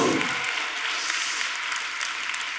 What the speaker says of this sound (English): we're going to give him a big applause